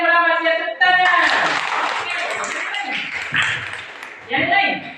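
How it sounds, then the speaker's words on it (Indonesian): Fifth-grade pupils in a classroom break into a short burst of clapping after an answer, preceded by a sung or sustained voice and followed by scattered claps and children's voices. "Tepuk tangan."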